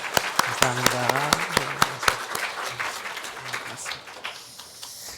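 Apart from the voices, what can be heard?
congregation applause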